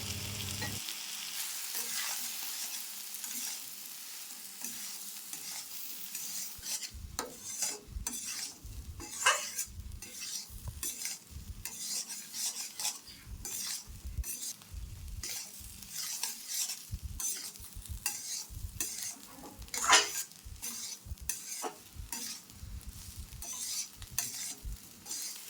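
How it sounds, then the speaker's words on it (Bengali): Vegetables, fried egg and semolina being stirred together in a pan, with a long run of rapid spatula scrapes and clinks over a steady frying sizzle, close and busy. "সুজি দিয়ে সব কিছু ভালো করে মিশিয়ে নেব।"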